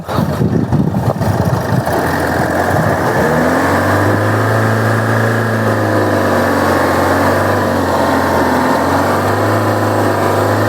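A used car's engine idles steadily and close, a low even drone that settles after a brief rougher start and runs on alone without talk.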